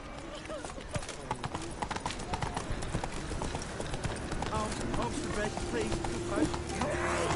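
A horse gallops in The Witcher 3 on PS4, its steady clip-clopping hoofbeats running throughout under a voice.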